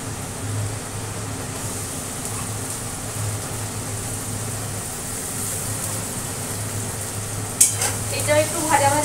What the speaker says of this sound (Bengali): এবার দিয়ে দিচ্ছি হচ্ছে যে রসুন আদা পেস্টটা